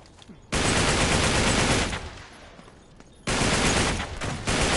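Loud, dense bursts of automatic gunfire from the shooter game Uncharted 3: Drake's Deception, a sustained roaring barrage that cuts off abruptly, dips, then surges again at full volume.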